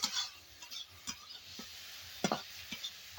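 Prawns are stirred in a little hot oil in a pan: a steady low sizzling hiss broken by a few sharp spatula clinks and scrapes, with no talking.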